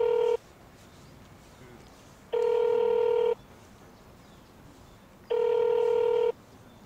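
Ringback tone of a telephone call placed to a fried chicken takeaway shop, three evenly spaced one-second rings separated by about two seconds of quiet, close and clear with no talking.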